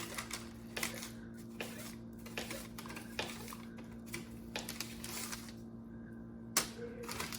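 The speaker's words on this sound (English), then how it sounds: "Cutting up lard into little cubes." A knife chops lard into little cubes on a board, giving a steady run of soft, close taps over a low background hum.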